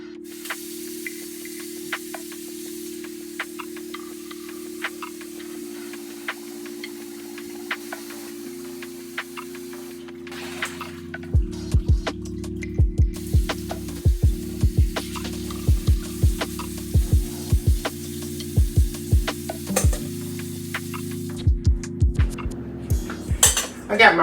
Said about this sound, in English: So let's go ahead and wash our rice.